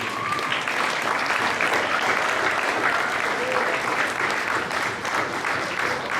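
An audience at a school athletics awards banquet claps steadily, a dense wash of applause that stays even and fairly loud throughout.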